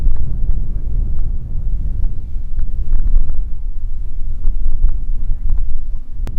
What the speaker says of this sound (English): Man, it is windy up here.